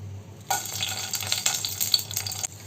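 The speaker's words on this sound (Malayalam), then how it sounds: "വെളിച്ചെണ്ണയിൽ ഒന്ന് ചൂടായിട്ട് വരുമ്പോൾ അതിലേക്ക് നമുക്ക് ഉണക്കമുളകാണ് ചേർത്ത് കൊടുക്കേണ്ടത്" Dried red chillies fry in hot coconut oil in a pan, giving a steady crackling sizzle that starts abruptly, with light stirring scrapes and brief spatters over a low background hum.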